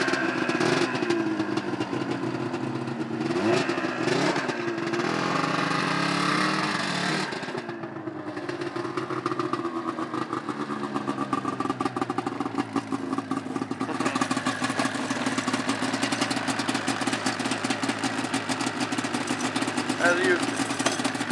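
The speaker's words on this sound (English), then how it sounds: "Here we got ourselves a Skidoo 1996 Formula Z 583." A 1996 Ski-Doo Formula Z 583 snowmobile engine idles steadily up close for a long stretch, a continuous buzzing two-stroke drone with a brief dip partway through and someone talking over the first part.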